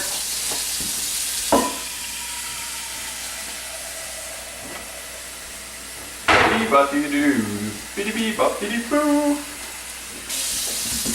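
Tap water runs steadily into a pot with a hissing rush. A voice talks briefly in the middle before the flow sound returns.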